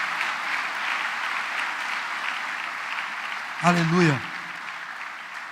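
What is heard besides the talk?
church congregation applauding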